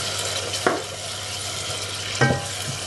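Masala that has been fried down, with tomato added, is stirred in a pan under a constant sizzle, with two sharp scrape-and-clack strokes of the spoon standing out.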